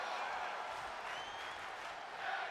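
A home crowd at a WWE 2K26 wrestling match in Mexico City cheers steadily, a broad continuous roar of voices and applause at moderate level with whistles rising through it.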